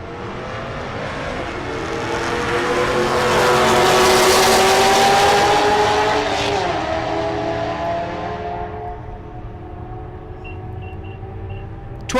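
At a drag strip, an S10 pickup and a 2011 Corvette launch side by side, their engines roaring loudly and building to a peak before fading down the track, then falling to a quiet hum.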